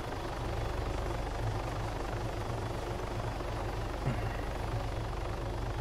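A helicopter's steady rotor chop and engine drone hangs overhead for several seconds, even and continuous, with ambience from the video game Arma 3 and no talking.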